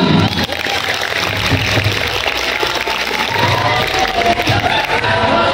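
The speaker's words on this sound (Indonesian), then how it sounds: "Sebelumnya tepuk tangan dulu dong" An audience claps together at a school student democracy event in Jakarta, a steady dense wash of applause filling the room without a break.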